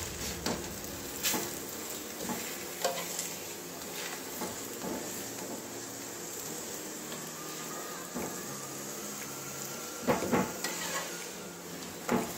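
Cabbage-stuffed paratha frying in a pan, a soft background sizzle punctuated by scattered clinks and knocks of a spatula and cookware, with a few sharper taps near the end.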